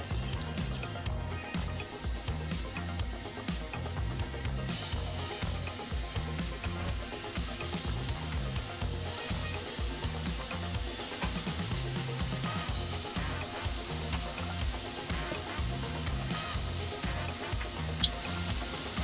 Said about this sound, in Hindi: तो रोल्स को फ्राई करने के लिए मैंने कढ़ाई में तेल रख लिया है।